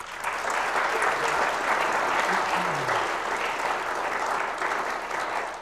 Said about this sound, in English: a round of applause for what they've been doing for the last 4 months for all of these teams